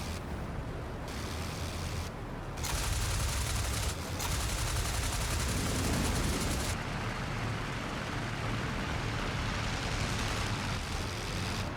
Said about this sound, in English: The Nieuport is quickly revealed to be Voss's triplane as he dives towards them firing